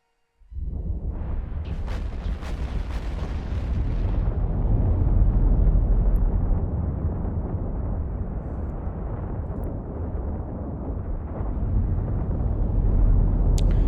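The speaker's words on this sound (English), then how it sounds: "you can go ahead and turn on the Vorton projectors from your 3 Thunderchild battleships" Vorton projectors firing from three Thunderchild battleships in the space game Eve Online, producing a sudden loud blast that swells into a sustained, rumbling roar of explosions, dense and heavy throughout with a few sharp crackles.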